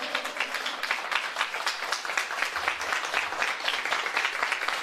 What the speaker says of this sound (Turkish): Onları bir son kez bir alkışlayalım